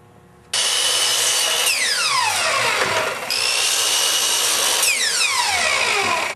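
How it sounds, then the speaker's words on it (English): A power saw runs steadily and loudly while cross-cutting wooden picture frame moldings, its whine dipping and rising as blades bite through the wood in a few sweeping cuts. "Now I cross-cut the moldings into 4 pieces, adding 3 inches onto the size of the canvas."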